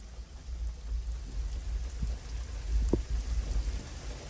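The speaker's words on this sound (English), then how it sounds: "It rains, then it drizzles, and then it pours." Steady rain falls outdoors on a trail, a continuous hiss with low rumbling wind, while occasional faint taps and knocks sound nearby.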